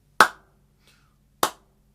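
Two sharp hand claps, well apart, marking a konnakol rhythm count, each crisp and close with a quick decay and silence between them.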